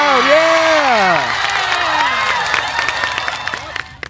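A crowd cheering and shouting at a Model UN event, loud and continuous throughout, with whoops and bright voices over a steady roar of many people.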